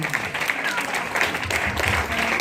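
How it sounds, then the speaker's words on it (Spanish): A live audience applauds at a talk on positive parenting, a steady dense patter of many hands filling the room, with a voice speaking faintly over it. "un aplauso de verdad para ustedes"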